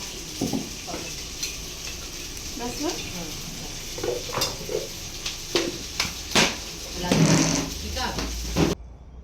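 Coconut and cashew paste frying in a pan with a steady sizzle, broken by scattered clinks and scrapes of a spoon against the pan, with a voice talking now and then.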